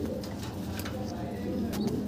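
Young pigeons cooing softly in a pigeon loft for sale, with a low murmur of coos and a few sharper calls over a steady background hum; someone talks faintly.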